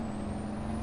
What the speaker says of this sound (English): So we're just pulling the truck into the field